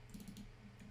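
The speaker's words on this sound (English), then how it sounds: "I'm going to click on the stair and go BX on my keyboard." Faint, rapid taps on a computer keyboard while modelling a staircase in Revit, with several soft key presses close together over a low room hum.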